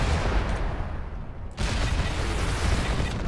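Sustained gunfire in the MWLL video game as players shoot at a turret on a desert map: dense, continuous shooting that briefly drops off, then resumes at full loudness.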